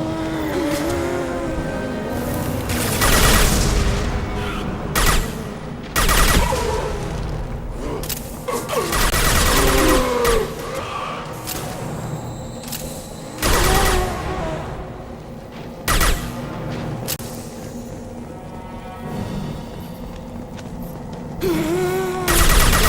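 Gunfire and combat in Mass Effect 2 Legendary Edition during Legion's loyalty mission, loud bursts of weapon fire and impacts alternating with engine-like roaring and brief gaps, dense and close, with little speech.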